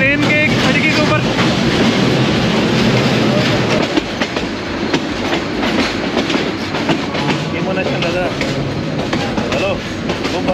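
A passenger train running on rails between Dhaka and Sylhet, heard from inside a swaying coach, with loud continuous rumble and clattering wheels and a voice talking over it.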